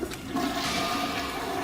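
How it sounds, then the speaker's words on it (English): A toilet flushes in the video game Danganronpa, a single loud rushing gush of water that runs steadily throughout. "flush the toilet"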